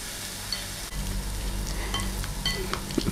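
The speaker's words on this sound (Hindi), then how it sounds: "अब इसमें हम ये फ्राई करते हैं।" A burger patty frying in hot oil in a pan, a steady close sizzle with soft crackles and the occasional pop, running evenly throughout with no voices.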